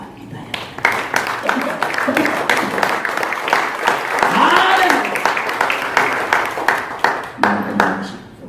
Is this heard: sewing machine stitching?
no